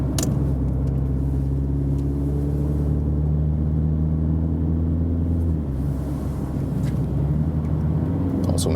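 Inside a Mini Countryman John Cooper Works, 231 hp, cruising at 100 km/h: a steady, even low drone of engine and road rumble that holds constant throughout, with no voices.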